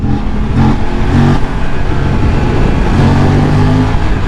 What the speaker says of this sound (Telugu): దీన్ని థ్రాటిల్ రెస్పాన్స్ చూడండి, థర్డ్ గేర్లో